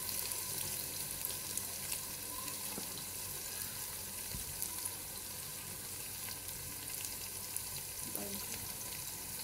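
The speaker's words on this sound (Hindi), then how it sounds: "यहाँ पे प्याज को मैं हल्का सा ब्राउन करूंगी" Onions browning in a frying pan give a low, steady sizzle throughout, fairly faint, with an occasional soft knock of a utensil.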